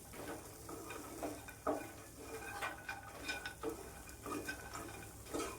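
Makhana (fox nuts) frying with spices and salt in a pan over low heat, a soft steady sizzle with repeated scrapes and clinks of a spoon stirring against the pan.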